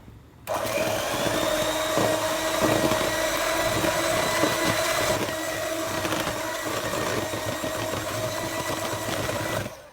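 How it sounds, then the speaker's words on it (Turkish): A steady motorized whir runs loud and continuous for about nine seconds as an electric mixer whisks batter for soft Turkish poğaça pastry dough, starting abruptly after a brief silent moment. "Şimdi bunu da çırpacağım güzel bir şekilde."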